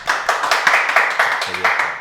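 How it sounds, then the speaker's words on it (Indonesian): A small studio group claps for a guest named Pakong, a few sharp, rhythmic handclaps repeating at a quick steady pace, close and fairly loud, with a voice briefly murmuring underneath. "tepuk tangan dong untuk Pakong dong"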